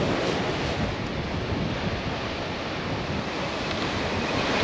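Ocean surf rolls steadily against the wild coast of Península Valdés, a dense, continuous roar mixed with wind buffeting the microphone.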